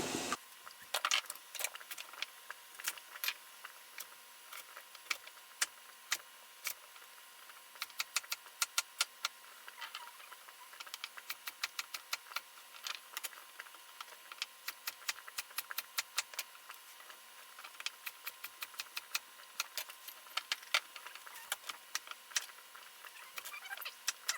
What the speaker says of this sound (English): So I will just peel my carrots, cut them up into rounds, and toss them in with everything else.